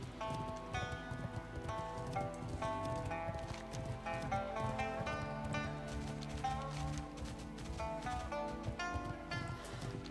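Steady clip-clop of hooves from a glowing horse mount ridden in World of Warcraft: Mists of Pandaria, a brisk even rhythm running continuously over a layered music bed, with no talk.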